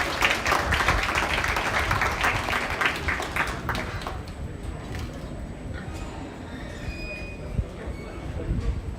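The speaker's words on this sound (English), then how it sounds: "Give them all a round of applause for a job well done." Crowd at a junior livestock show, after a market hog class, breaks into loud clapping for the kids that fades out after about four seconds, leaving a quieter arena with murmuring voices and faint background noise.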